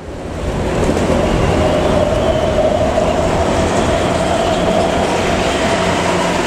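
The Rengganis passenger train overtakes on the Pantura rail line in Indramayu, a loud, steady roar of wheels and carriages rushing close past with a continuous rumble and faint rail hum.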